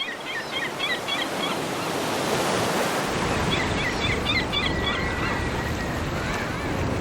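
Seagulls call by the sea in repeated bursts of harsh, high cries, first early on and again midway, over a loud, continuous wash of breaking waves and surf with no voices.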